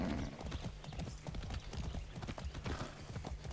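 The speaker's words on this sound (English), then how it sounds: "I haven't ridden a horse since basic training" A horse gallops in Far Cry 6 with quick, rhythmic hoofbeats, loud and close, continuing steadily throughout.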